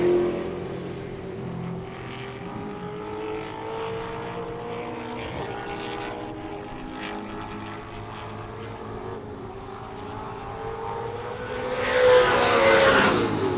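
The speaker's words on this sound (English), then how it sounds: "and there goes English, the silver and yellow Firebird leading the green Mustang of 10K" TransAm race cars, including a Firebird and a Mustang, roar past on an Australian circuit, a steady loud engine drone that swells near the end as cars close in.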